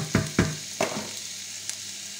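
Bacon lardons sizzle and crackle in a hot pan. A few distinct thumps and stirring scrapes are followed by a softer, steady fry.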